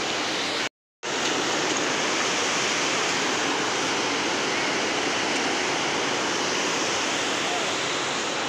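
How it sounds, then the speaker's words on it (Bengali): A strong river current rushes beneath a bridge in a dense, continuous roar of water, loud and steady throughout after a brief dropout near the start. "নিচে এইভাবে জল যাচ্ছে"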